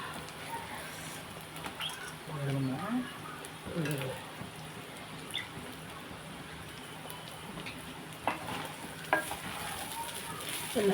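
Egg fried rice being stirred and tossed in a hot pan, a continuous soft sizzle with scraping stirring strokes and a few sharper knocks, moderately quiet.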